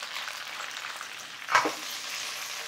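Beef tenderloin frying in oil in a hot pan, giving a steady soft sizzle with a brief louder crackling burst partway through, heard close and without talk.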